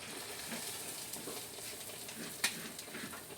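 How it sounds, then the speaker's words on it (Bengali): Dahi vada lentil fritter batter dropped into hot oil gives a steady, close, even sizzle throughout, with one sharp crackle partway through and no talking. "এবার বড়াটা তেলে ছাড়ছি।"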